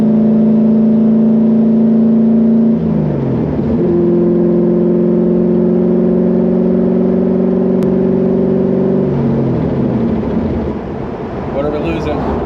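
A V8 engine in a Toyota Celica drift car runs during tuning for a dyno session, holding a loud steady idle that dips and shifts pitch a couple of times, with a rough rumbling tone close by.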